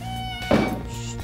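An agitated cat gives one loud, drawn-out meow during a veterinary home visit for a sick cat, rising sharply in the middle over a steady background hum.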